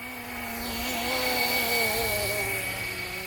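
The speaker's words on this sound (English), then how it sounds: "the 4-bladed rotor makes a huge difference with these Flywing helicopters" A Flywing Bell 206 radio-controlled helicopter with a four-bladed rotor flies nearby, its motor whine and rotor buzz swelling and then easing slightly as it passes, heard alone outdoors.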